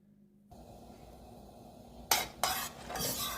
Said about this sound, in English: go ahead and melt my butter